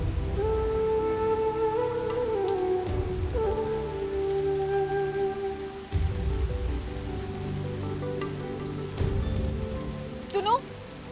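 Steady rain falls outside, a continuous soft patter heard beneath sustained musical tones, with no talking.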